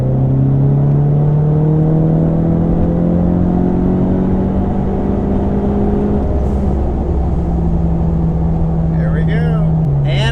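A Ford Mustang EcoBoost running E30 fuel pulls hard in fifth gear from 3,000 RPM, its engine drone rising steadily and loudly inside the cabin, with faint voices near the end.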